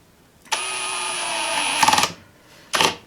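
A power drill whirs steadily for about a second and a half drilling holes in a board, then a second brief burst of drilling follows after a short pause.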